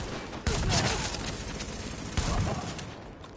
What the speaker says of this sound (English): That's what I do with my shotgun